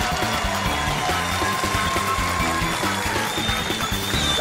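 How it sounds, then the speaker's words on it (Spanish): Continuous TV studio audience clapping, sustained and fairly loud throughout, with a soft musical backing running beneath it. "vamos a ver qué dicen los aplausos de ustedes"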